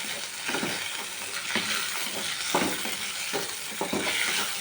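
Chopped tomatoes frying in about four spoons of oil, a steady close sizzle with periodic scraping stirs of a spoon against the pan, no talking.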